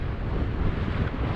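Strong wind with 30-mile-an-hour gusts buffets the microphone on a mountain summit in the Scottish Northwest Highlands, a continuous low roar and rumbling gusts.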